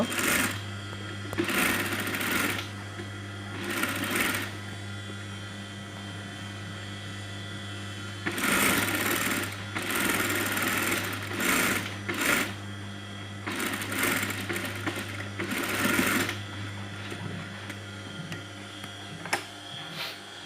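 A sewing machine stitches along the edge of a kameez band collar in several loud bursts separated by short pauses, with a steady low hum running underneath throughout.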